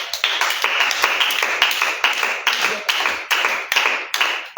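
A church congregation claps steadily in a fast, even rhythm during a French-language worship service, the claps loud and close with no talking over them.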